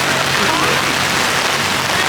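Rain falls steadily at an outdoor market during a storm, a dense, even hiss pattering on nearby surfaces with a faint low murmur beneath.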